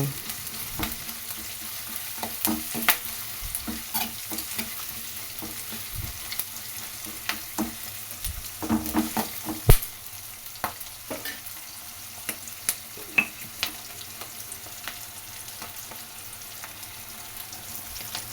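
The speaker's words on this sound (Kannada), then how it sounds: "ಈ ಥರ ಒಂದು ಐದು ನಿಮಿಷ ಫ್ರೈ ಆದಮೇಲೆ ಕಲರ್ ಚೇಂಜ್ ಆಗುತ್ತಲ್ವ ಈರುಳ್ಳಿ ಎಲ್ಲನೂ" Onions frying and being stirred in a pan with plenty of oil while making a raw mango chitranna rice dish, a soft steady sizzle broken by scattered scraping clicks of a spatula throughout, no voices.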